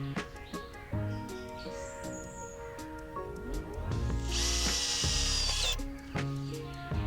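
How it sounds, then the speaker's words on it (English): Power drill driving self-tapping screws into corten steel border edging, with bursts of whirring spin that climb into a loud high grind midway, heard close with no talking. "we can screw in the remaining holes with the other self-tappers"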